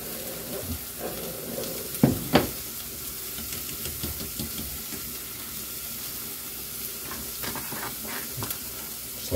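A spoon moves a beef and cheese burrito filling around a pan with the heat off, producing soft scraping strokes and a couple of louder clanks against a low steady sizzle.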